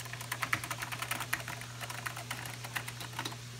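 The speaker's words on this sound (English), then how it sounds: "I'll start typing in here." Steady, fast typing on a NeXT non-ADB computer keyboard connected through a USB adapter: quick clicking keystrokes close up over a constant low hum.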